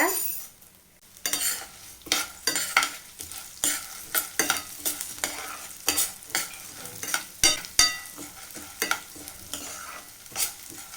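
Three kinds of lentils fry in about two teaspoons of oil in a pan, a soft steady sizzle broken by repeated scraping strokes of a spoon stirring them, close and fairly loud with no talking.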